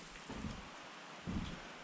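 Rain falling on a roof over a timber-frame build site, a steady soft patter with two louder gusts of heavier drumming, heard close and alone without speech.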